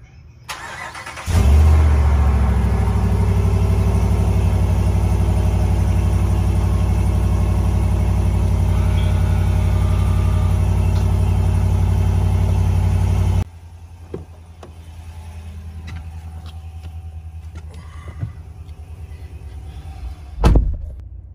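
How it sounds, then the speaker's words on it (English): A stock-exhaust 5.7L HEMI V8 in a RAM 1500 cranks and fires on a cold start, settling into a loud, steady high idle for about twelve seconds before cutting off, leaving faint rustles and a brief thump. "So here's a cold start."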